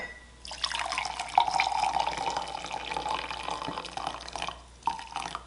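Diluted Wilton's Ivory colour is poured into a container, a steady trickling and splashing of liquid that runs for several seconds, close and moderately loud.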